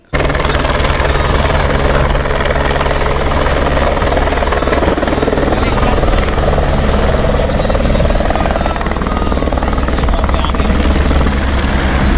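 A loud, close helicopter on the Kedarnath route in the mountains drones continuously with a steady rotor thrum and engine whine, filling the whole stretch without pause.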